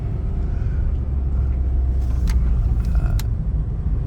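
A car rolls slowly into a car park at a water collection stop for window cleaning, its steady low engine and road rumble loud and close, with a few brief light clicks and rattles near the end.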